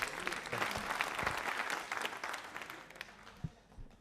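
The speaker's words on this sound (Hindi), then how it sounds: "लो तालियां बजाओ मनबत जी के वास्ते।" A crowd claps steadily for about four seconds, dense applause that slowly thins out toward the end with a few last louder claps.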